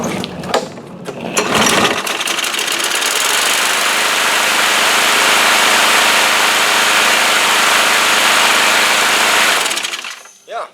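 A Briggs and Stratton 6.5 hp small engine with a starting problem sputters and then roars into a loud, steady, rattling run for several seconds before cutting out abruptly near the end.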